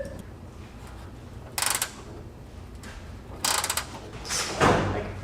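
A wrench works on the gas tank bolts of a 1964 Ford F250 dump truck: three short ratcheting bursts spaced a couple of seconds apart, then a duller clunk, over a quiet shop background.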